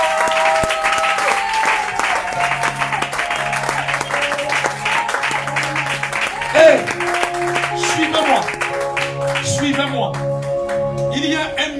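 A church congregation applauds and cheers in praise, steady clapping running throughout while a voice keeps speaking over it and music sustains underneath.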